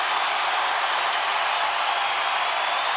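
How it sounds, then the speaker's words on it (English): A basketball arena crowd roars in a steady, dense wash of cheering and noise that stays loud and unbroken throughout, with no distinct voices standing out. "the crowd's starting to wear on, the noise"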